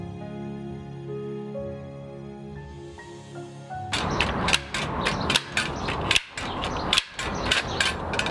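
A half-inch handheld stapler drives staples through heavy cardboard into a frame, giving a string of sharp, close snaps in an uneven rhythm after a quieter tonal opening.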